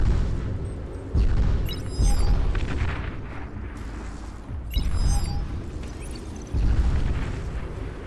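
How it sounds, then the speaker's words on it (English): Submarine torpedoes striking underwater tanks in a real-time strategy video game, heavy booming explosions in several separate bursts with rumbling decay between them, loud and close. "his tanks, which are underwater, are getting hit by torpedoes from a submarine"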